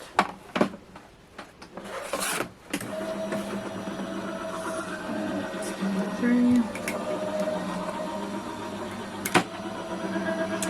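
A Gemini die-cutting and embossing machine runs with a steady mechanical hum, rolling a 2D wooden panel embossing folder through, with a few knocks and clunks along the way.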